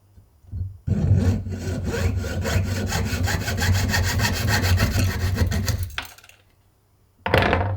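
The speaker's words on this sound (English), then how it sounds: "And then we're going to cut that now, so using a saw." A hand saw cuts through silver for a handmade necklace with a stone, rasping in quick, even back-and-forth strokes for about five seconds, pausing, then starting again briefly at the end, close and without talk.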